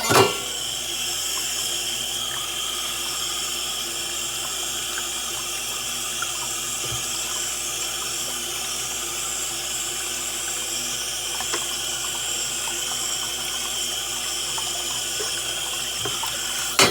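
Tap water runs in a steady, even stream while a clogged Bosch dishwasher trap filter is rinsed, a continuous close splashing rush with no talking.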